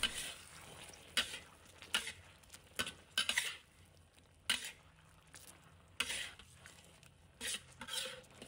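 Metal spatula stirring and scraping a braised dish in a wok after finishing oil goes in, with repeated clanks and rattles over a low steady sizzle.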